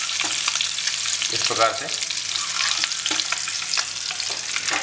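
Eggs fry in a pan with a steady, loud sizzle while being stirred gently by hand, soft scraping strokes mixing into the crackle; someone speaks briefly over the cooking.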